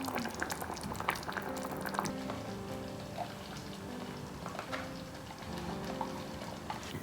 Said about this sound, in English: So I mixed in the cream and it's been cooking.